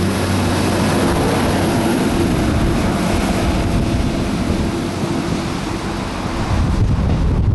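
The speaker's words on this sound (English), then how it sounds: "here comes the other train" A train passes close to a Premier League football ground on match day, a loud, steady broadband rumble with wind buffeting the microphone throughout and no voices.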